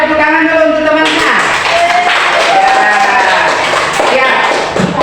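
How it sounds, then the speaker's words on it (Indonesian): A classroom of students applauds a student group, their clapping loud and close with scattered taps and shuffling, after a teacher's voice briefly speaks at the start. "Ya, kita tepuk tangan dulu untuk temannya."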